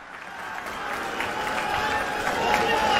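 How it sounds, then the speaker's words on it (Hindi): Crowd at a large Aam Aadmi Party rally at Jantar Mantar applauds to welcome Manish Sisodia, a broad wash of clapping and crowd noise that swells steadily over three seconds. "जोरदार तालियों से स्वागत करिए मनीष जी का"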